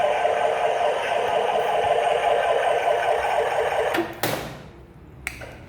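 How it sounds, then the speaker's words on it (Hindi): An electric motor hums steadily at close range with a constant mid-pitched whine, then cuts off near the end, leaving a brief click and quiet. "मोटर चलाती हूँ क्योंकि लाइट का कोई भरोसा नहीं है"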